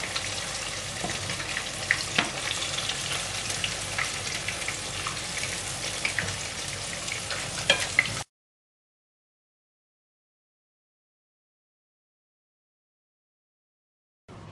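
Fish sizzles and crackles in hot oil in a home kitchen, a steady dense frying hiss with small pops that stops abruptly partway through and leaves silence.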